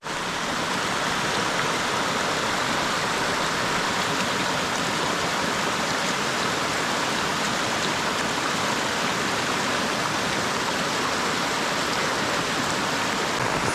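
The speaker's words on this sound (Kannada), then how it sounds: "ಮಳೆ ನೋಡಿ, ಒಳ್ಳೆ ಮಳೆ ಹೊಡಿತಿದೆ ಆಯಿತಾ." Heavy rain pours down at a camping spot, a dense, loud, unbroken wash of hissing noise that stays constant throughout.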